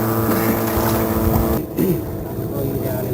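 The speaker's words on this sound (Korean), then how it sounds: "마음 급한 젊은이들이 최고 속도로 모터배를 몬 것이다" A motorboat racing at full throttle on open sea off a traditional whaling village, its engine roaring loud and steady with wind buffeting the microphone and a brief dip in the drone midway.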